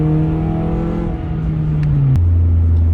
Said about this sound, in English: this is what it feels like to do a pull in the car